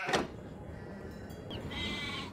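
Sheep bleating in the Nancy Drew game The Haunting of Castle Malloy, one short bleat at the start followed by a softer drawn-out bleat amid light background ambience.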